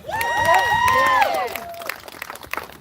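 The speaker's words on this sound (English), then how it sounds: "So we can clap for that." A crowd at an outdoor Black Lives Matter protest on Juneteenth cheers and whoops loudly, high voices rising in a burst, then settling into scattered clapping and chatter.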